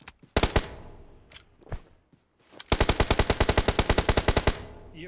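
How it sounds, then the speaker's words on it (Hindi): M4 rifle fire in the BGMI mobile battle royale game: a few single shots and short bursts, then a long rapid string of about sixteen sharp, loud automatic rounds, with no talking. "तो मुझे इसको मजबूरी में M4 से मारना पड़ा"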